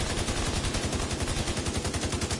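An overheating gun in The Division fires continuously in a fast, even automatic rhythm, each shot a sharp thump blending into a steady rattling stream, close and sustained without pause.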